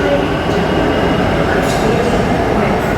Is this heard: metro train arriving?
yes